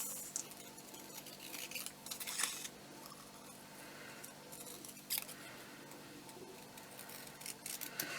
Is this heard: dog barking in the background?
no